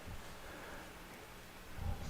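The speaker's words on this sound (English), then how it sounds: "the rain is coming down hard now" Heavy rain pours down at an outdoor collegiate baseball game, a faint, steady hiss with a brief low rumble near the end and no talking.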